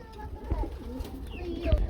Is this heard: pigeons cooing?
yes